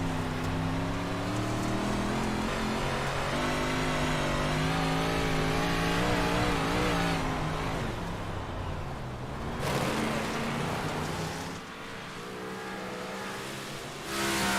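Race cars roar around the Williams Grove dirt track during a heat race, engines droning and revving together in a continuous loud pack sound that shifts in pitch as they circle, with no talking.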